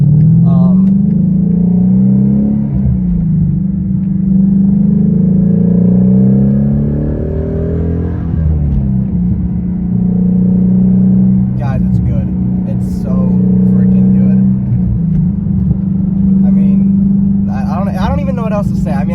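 A Shelby GT350 with a manual stick shift drives along, its engine holding a steady, close drone from inside the car, with a few rises and dips in revs as gears change.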